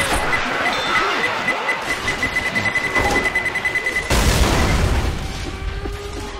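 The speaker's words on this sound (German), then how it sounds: "Rohrbombe." A pipe bomb going off in Left 4 Dead 2: a steady electronic beeping gives way to a sudden heavy boom, with rumbling debris trailing off afterward amid a noisy swamp-level battle.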